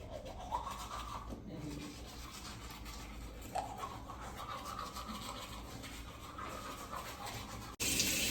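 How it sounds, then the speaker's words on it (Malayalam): A child brushes teeth with a toothbrush, producing soft, steady scrubbing and rubbing strokes close to the ear, faint throughout, with a sharper clatter at the very end. "ബാവക്ക് ബ്രഷ് ചെയ്യണം."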